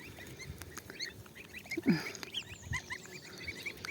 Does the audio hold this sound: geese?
yes